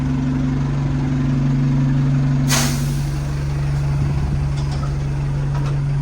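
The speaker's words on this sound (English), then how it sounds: "So this is the bus that goes to Gatwick Airport" Airport bus to Gatwick idling loudly nearby with a steady engine drone, and a sharp burst of air-brake hiss partway through.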